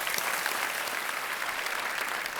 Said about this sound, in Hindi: इन सबका एक बार फिर बहुत बहुत स्वागत तालियों के साथ।